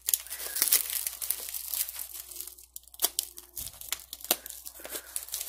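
A package is torn and crinkled open during an unboxing of craft paper goods, with repeated sharp rips and crumpling bursts, close and busy throughout, and no talking.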